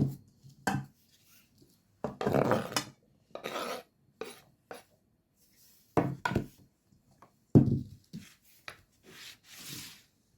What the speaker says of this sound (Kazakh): Картошкамызды турап алдық.